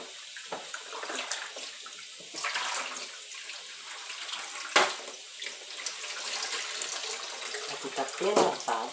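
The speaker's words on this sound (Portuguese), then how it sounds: "Aqui, ó. Água quente." Hot water running from a kitchen tap into a sink while dishes are washed during lunch preparation, a steady splashing stream with a few sharper clatters, close by and moderately loud.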